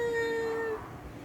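A person imitates a cat in heat with a single drawn-out, steady meow, held for most of a second and then fading into quiet room tone.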